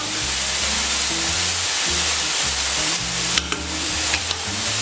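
Beef and onion sizzle steadily in a hot pan, a loud continuous frying hiss close by, with faint utensil clicks near the end.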